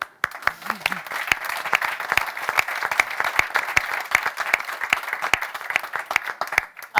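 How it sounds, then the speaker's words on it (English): Audience applause at a business leadership summit, a dense sustained round of clapping from a crowd lasting several seconds, steady and fairly loud with sharp individual claps standing out. "Round of applause for Infosys."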